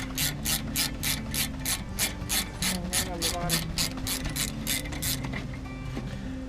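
A hand ratchet clicks in quick, regular bursts while loosening a brake line banjo bolt on a 1995 Jeep Wrangler YJ front caliper. The clicks are close and moderately loud, with no talk.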